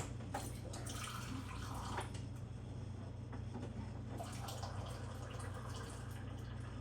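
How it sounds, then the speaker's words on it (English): Warm tap water runs steadily into a container while preparing a baguette dough, a continuous broadband hiss and splash filling the whole stretch at close range, with no talking. "I'm going to get some warm water"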